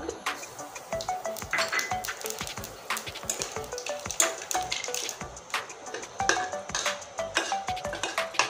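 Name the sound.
bay leaf, dried chili and nigella seeds tempering in hot oil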